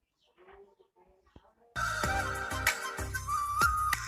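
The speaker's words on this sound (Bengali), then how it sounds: "তো রিংটোনটি আপনারা শুনতে পারছেন।" A Messenger message notification tone rings out from a phone, a bright melodic electronic chime that starts suddenly after a quiet opening and carries on at steady volume to the end.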